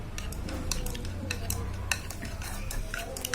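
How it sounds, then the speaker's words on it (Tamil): An egg is beaten with a utensil in a bowl for a hair mask, producing rapid, irregular clinks and taps of metal against the dish, close and fairly loud. "நான் இந்த முட்டையை வந்து இப்போ நல்லா பீட் பண்ணிக்க போறேன். நல்லா கலக்கணும்."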